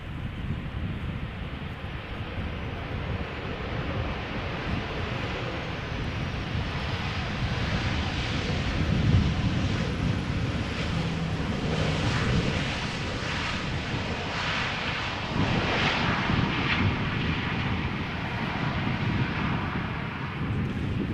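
A Transavia airliner arrives at Amsterdam Schiphol Airport with a steady, loud broadband jet roar that holds for about twenty seconds, swelling slightly midway, with wind buffeting the microphone throughout.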